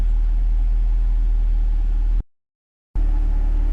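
Car idling with a Corsa catback exhaust, valves closed, giving a steady low rumble that cuts out abruptly for under a second before resuming at the same level.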